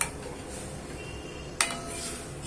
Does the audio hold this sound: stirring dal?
yes